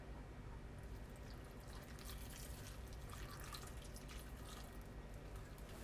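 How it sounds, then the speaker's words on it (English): A cup of water is poured, a faint, steady splashing trickle lasting several seconds with no voices. "I'm going to add a cup of water."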